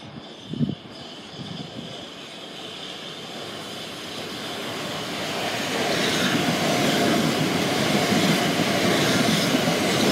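A train passing beneath a footbridge at Faversham, its rumble swelling from moderate to loud and steady over the second half, with a brief knock near the start and no talk.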